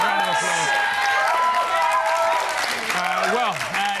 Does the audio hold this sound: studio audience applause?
yes